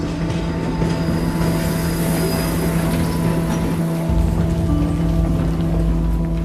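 A rapid train arriving at Takarazuka Station, Japan, rumbles steadily with a low engine drone and rail noise, a deep thump partway through as it slows at the platform.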